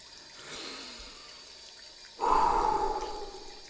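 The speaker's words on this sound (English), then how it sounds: "Wash thy hands." Hands being washed under running water at a tap, a soft wash of flow first, then a louder, steady gush of running water splashing in the second half, close and alone with no talk.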